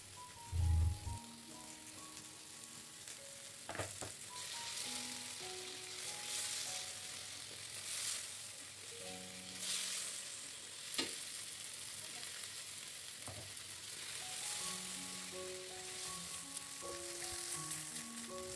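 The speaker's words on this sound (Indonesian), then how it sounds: "baru aku mau tumis si bumbunya" Spices stir-fried in a wok sizzle and crackle softly and steadily, with occasional scrapes and clinks of a spatula against the pan.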